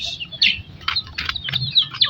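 Baby chicks peep in quick, high, repeated chirps close by, several overlapping calls in an uneven run over a faint low background.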